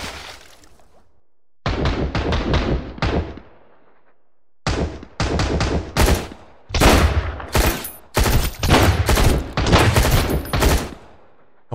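Rapid bursts of gunfire in the survival shooter Sunkenland, loud and close, arriving in repeated volleys with short pauses between them and a stretch of near silence early on.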